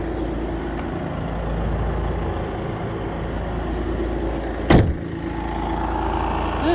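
A 2005 VW Jetta TDI diesel engine idles with a loud, steady rumble heard close up under the open hood. A sharp hissing burst cuts in briefly near the end, and no voices are heard.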